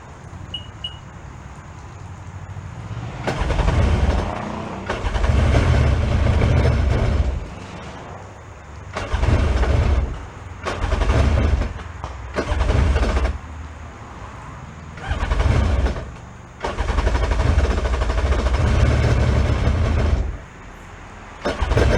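A broken yard-sale jet ski engine revs in repeated loud bursts, roughly eight surges with short gaps between them, each a rough, heavy roar that cuts off and restarts.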